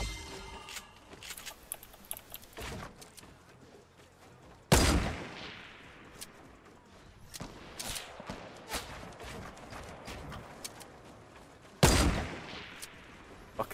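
Semi-auto gunfire in Fortnite Battle Royale, sharp isolated shots spaced several seconds apart, two of them loud and close among fainter pops and scattered game noises.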